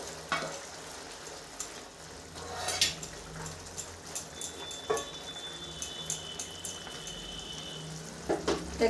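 Tengra fish cook in a spicy oil gravy over heat, a steady close sizzle with scattered pops and light clinks from the pan.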